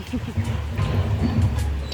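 Puppy whimpering and yipping up close, with thin high whines and short yips over a background of people talking and laughing.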